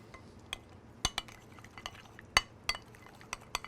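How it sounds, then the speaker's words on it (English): Chopped parsley, avocado oil, kosher salt and fresh ground pepper are mixed, with sparse sharp clinks and taps of a utensil against a bowl over a quiet background. "Finally, a pinch of kosher salt, fresh ground pepper, and we mix."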